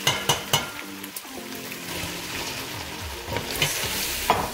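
Ground egusi seeds are stirred fast and fried in a pot for a Nigerian dish, with a steady sizzle broken by sharp scraping and clanking strokes of the spoon at an uneven pace, close and without talk.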